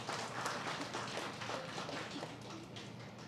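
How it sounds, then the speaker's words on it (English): Applause from the audience at a school launching ceremony, a steady, dense wash of clapping that holds for a few seconds and fades slightly toward the end. "We give him a round of applause"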